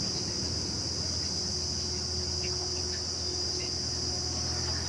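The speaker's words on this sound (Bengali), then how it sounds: "দেখো এখানে ঝিঝি পোকার সাউন্ড পাওয়া যাচ্ছে" Crickets chirp in a steady, continuous high drone near a pond in jungle at midday, moderately loud and alone with no talk.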